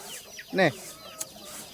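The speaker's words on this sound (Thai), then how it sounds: "โอ้ไก่ลายเลยพี่น้องนี่" A striped chicken gives one clear, close cluck, followed by a faint second call and low background noise.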